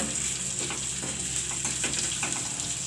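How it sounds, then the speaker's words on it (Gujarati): Carrots and peas sauté in hot oil with a soft, steady sizzle and a few light stirring scrapes, heard quietly and close with no voices. "તો ઘડીક વાર આપણે આને તેલમાં સડવા દેવું"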